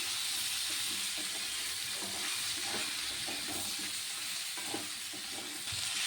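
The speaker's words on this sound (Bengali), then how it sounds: "উচ্ছে আর আলুটাকে খুব ভালোভাবে নেড়ে চেড়ে একটু ভেজে নিয়েছি" Bitter gourd and potato stir-fried in a pan with salt and turmeric, a steady close sizzle with repeated scraping and stirring taps from the spatula, no voices.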